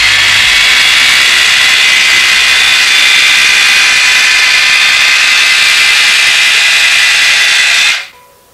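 A cheap electric split-end hair trimmer from AliExpress whines loudly and steadily at high pitch for about eight seconds, then cuts off abruptly into quiet.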